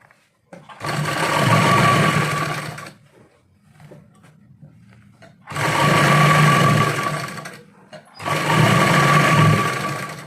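Close, loud sewing machine stitching elastic onto a trouser waistband while it is stretched, running in three sustained bursts separated by quiet pauses with faint handling noise.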